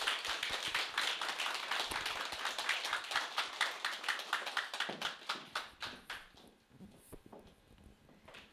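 Audience at a Sunday side-business seminar bursting into sustained applause at the end of a talk, dense and even hand claps for about five seconds before thinning into scattered claps and fading out.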